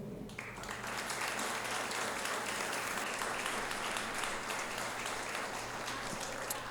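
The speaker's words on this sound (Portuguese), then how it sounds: "vamos aplaudir o Senhor." A church congregation applauds after a Portuguese-language sermon and prayer, a dense, even wash of clapping that holds steady for several seconds, fairly soft and slightly distant.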